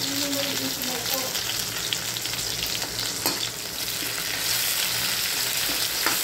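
Food sautéed in a pan and stirred until golden brown, giving a steady close sizzle with faint scraping of the spoon running through it.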